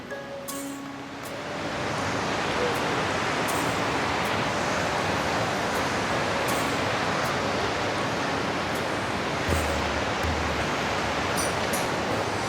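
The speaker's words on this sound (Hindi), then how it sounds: "कभी बहता पानी" Mountain stream water rushing along a forest trail on the Shrikhand Mahadev Kailash pilgrimage, a steady broadband roar that swells in after a second or two and holds close and loud throughout.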